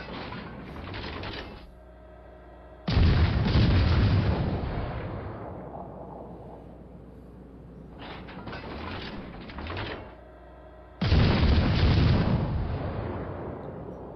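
Naval shells boom and rumble in a World of Warships Legends sea battle, two heavy blasts each followed by a long fading roar, with quieter salvos between them.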